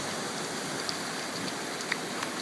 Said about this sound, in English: and check out the rain.